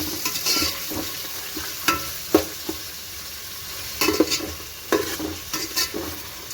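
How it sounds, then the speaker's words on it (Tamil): Onions and four green chillies frying in a pan for biryani, stirred steadily with a utensil, with a constant close sizzle and irregular scraping knocks against the pan, no talk. "வெங்காயத்தை சேர்த்து நல்லா வதக்கி விட்டுக்கலாம்."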